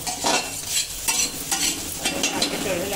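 Eggs fry in hot oil for a prawn rice dish, giving a steady close sizzle with crackling bursts and occasional stirring scrapes, no voices.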